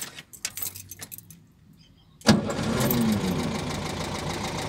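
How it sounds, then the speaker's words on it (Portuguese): A VW Beetle (Fusca) engine cranks with some difficulty after a few key jangles, then catches and settles into a loud, steady idle that runs continuously to the end. "Aquela partida enjoada que vocês já conhecem"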